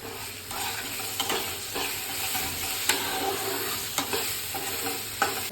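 Masala paste fries in a pan with a steady sizzle, and a spoon scrapes and stirs through it in several distinct strokes, close and continuous with no talking.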